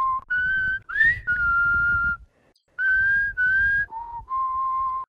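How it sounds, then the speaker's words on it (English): A dry, unprocessed whistled melody made as a sample for an 80 BPM beat, with clear sustained and sliding notes in short phrases, a brief pause midway, and a low rumbling background. "this is the whistle that we're going to have"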